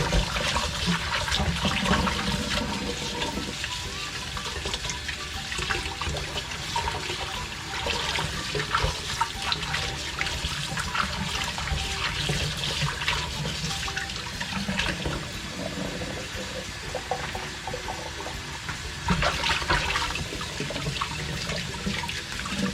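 Tap water runs steadily as vegetables are rinsed at a sink before cooking tanigue sinigang, a continuous splashing and trickling rush lasting throughout with slight surges and no talking.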